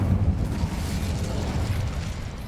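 The Incendio fire spell cast in Hogwarts Legacy, a loud, low rumbling whoosh of flame that bursts at the start and roars steadily before easing off.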